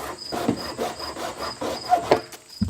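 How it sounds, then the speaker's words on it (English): Steady back-and-forth sawing or rasping as a plastic nub is cut off the side of a rain barrel, close up, with a few sharp clicks near the end. "Cut off one of the nubs on the side of the rain barrel"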